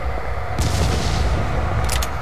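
Gunfire in the horror video game Call of Cthulhu: Dark Corners of the Earth: a sharp shot bursts out, then another short volley follows over a constant rumbling in-game background.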